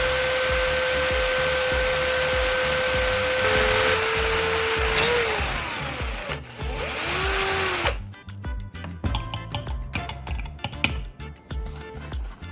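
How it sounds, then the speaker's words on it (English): A power drill whines steadily at close range, its pitch dipping as the bit bites into a fan blade, then stops and gives way to clattering handling noises. "I'm going to drill a hole into one of the fan blades."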